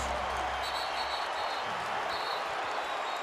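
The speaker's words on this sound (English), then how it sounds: "Listen to this crowd." Fans at Staples Center during a Lakers NBA game roar in a constant, fairly distant crowd noise with clapping mixed in, heard under faint commentary.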